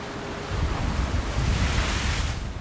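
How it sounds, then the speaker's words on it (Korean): Rough winter sea surges and crashes around a fishing boat, a loud, continuous roar of waves mixed with wind buffeting the microphone, with no voices. "이젠 서 있기조차 쉽지 않을 정도로 파도가 심하게 일렁."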